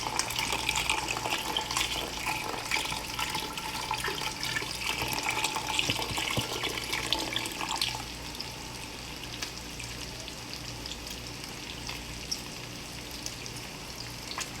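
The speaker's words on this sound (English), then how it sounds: "Seafood stock going in." Seafood stock pours into a roux for a seafood and sausage gumbo, a steady liquid splash and rush that runs loudly for about eight seconds, then eases into a quieter, continuous trickle and sizzle.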